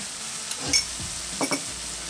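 A spoon stirs tomato puree into a thick roux in a pan on a barbecue, producing a few soft scraping strokes and light clinks over a faint background hiss, close and quiet.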